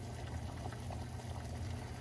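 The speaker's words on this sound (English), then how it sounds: "So obviously pot of boiling water here. Let's drop it in and see what happens." A pot of water boils at a steady rolling bubble as a iFiXiFi replacement part is dropped in, a continuous, fairly quiet seething with no voices.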